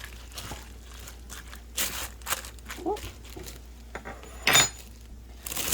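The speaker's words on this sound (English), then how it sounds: "I am just going to stir this all together" A utensil scrapes and clanks against a cooking pot while food is stirred, giving irregular sharp knocks and scraping bursts at moderate volume with quiet gaps between them and no talking.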